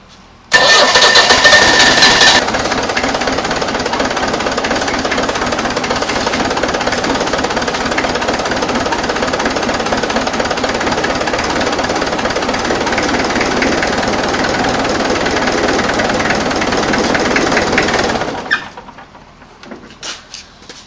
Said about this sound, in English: now we're just going to start it and dip the oil.